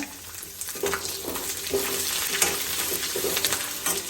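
Coconut, garlic, ginger, green chilli and onion sauté in a pan for a spicy jackfruit seed curry, giving a steady sizzle with soft scraping strokes from a stirring spoon at a close distance, with no talking.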